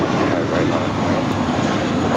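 Airliner taking off from runway 25 right at LAX, a steady broad roar of engine noise that holds loud and constant throughout with no break.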